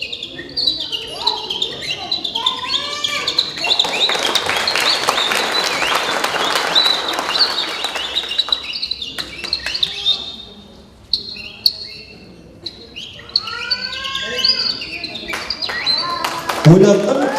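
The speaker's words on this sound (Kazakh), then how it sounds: "Қызылорда әдемі құстар ұшып келе жатыр ана жақтан" A flock of birds flies over Kyzylorda, Kazakhstan, giving repeated bright chirps and calls over a rushing, flutter-like wash, with a brief lull partway through and some voices in the background.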